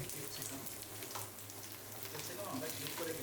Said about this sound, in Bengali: প্রথমে পেঁয়াজ কিউব হালকা করে ভেজে নেব পেঁয়াজ হালকা লাল হয়ে আসলে ক্যাপসিকাম দিয়ে দেব